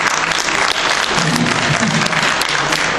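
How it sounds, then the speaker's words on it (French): Audience applause at Fana Manga 2018 for Jean-Paul Césari, a dense, loud wash of clapping from a crowd, continuous for the whole stretch with faint voices beneath. "On applaudit Jean-Paul, s'il vous plaît."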